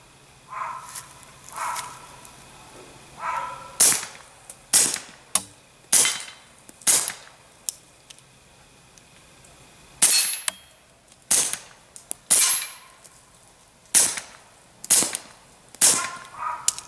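A SIG P938-22 pistol loaded with CCI standard velocity rounds fires through a Thompson Machine Zephyr-L suppressor: a long string of sharp, fairly close shots at an irregular, unhurried pace, each a short crack with no speech.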